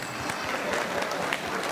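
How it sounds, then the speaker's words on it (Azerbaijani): An audience at a meykhana gathering claps in a brief burst of moderate, somewhat distant applause, scattered hand claps blending into a steady patter. "Mən çox rica eləyərəm məclis əhlindən bir ürəkdən alqışlayaq Səhəd balanı."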